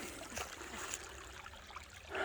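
A creek on a homestead, running lower after a recent flood, flows with a steady, moderately faint trickling and gurgling wash that swells slightly at the close.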